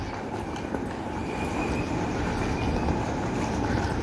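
A Dubai airport terminal train rumbles steadily along the rails, a continuous low roar with faint squeal, moderately loud and unbroken throughout.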